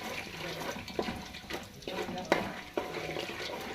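Peanuts fry in hot oil with mustard seeds and cumin in a home kitchen: a soft, steady sizzle broken by several sharp scrapes and clanks of stirring in the pan.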